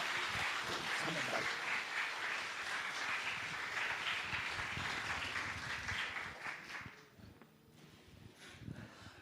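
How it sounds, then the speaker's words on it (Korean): A church congregation applauds to welcome a guest speaker, a sustained round of many hands clapping that fades toward the end, with some voices beneath and a few scattered claps trailing off. "우리 박수로 환영합니다."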